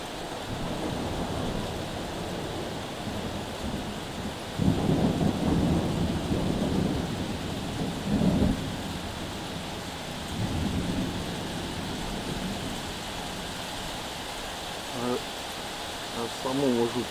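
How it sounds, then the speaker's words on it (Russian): Night thunderstorm over Vitebsk with a heavy rain downpour hissing steadily throughout, punctuated by deep rolling thunder rumbles around the middle; a voice talks intermittently over the storm. "О, ливень пошел."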